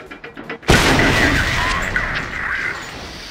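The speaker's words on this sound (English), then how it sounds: "our Panzer shot me" A tank cannon fires in World of Tanks, a sudden loud boom that cuts in after faint background noise and leaves a long, rumbling decay.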